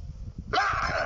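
A dog gives one short, close, loud bark after half a second of low rumbling background.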